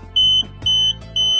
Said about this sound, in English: Wulian wireless inflammable gas detector will send an alarm message to your smartphone